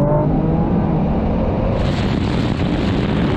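A Honda NSX launches in a drag race against a Porsche 911 Turbo S and a Nissan GT-R Nismo, heard as a loud, rising engine roar mixed with rushing wind that swells as the cars pull away.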